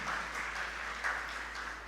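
Applause from a church congregation at a Catholic profession ceremony, a steady wash of many hands clapping at even loudness throughout, with no talk over it.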